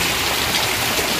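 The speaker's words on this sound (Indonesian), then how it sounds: "Ini hujan dari tadi tuh nggak terang-terang." Heavy rain pours down steadily at a flooded rural house beside rice paddies, a dense loud hiss of falling water with no voices over it.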